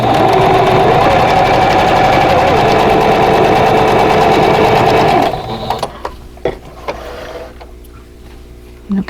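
A sewing machine stitches a quilt block in a fast, steady, loud run for about five seconds, then stops, leaving a few soft clicks and handling knocks.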